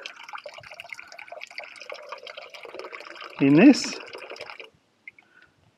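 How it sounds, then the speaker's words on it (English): Water runs from a tap into a bucket for a 12 V hot water shower, a steady trickling splash under a man's speech, then swelling briefly before cutting off into near silence with a few faint drips. "you would have just seen me filling the bucket up"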